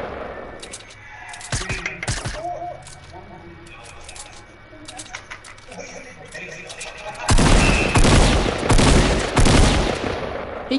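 Video game gunfire aimed at another player comes in short rapid bursts, then a denser, louder stretch of shooting near the end, with people talking over it throughout.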